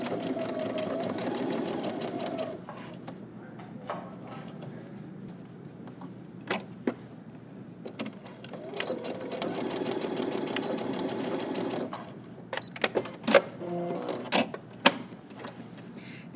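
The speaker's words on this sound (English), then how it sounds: "You're gonna stitch to the middle one, you'll pivot, and then stitch in the other direction." Suit pants from Simplicity pattern 8749 are stitched on a sewing machine in two sustained runs with a quiet pause between, followed by scattered clicks and handling taps.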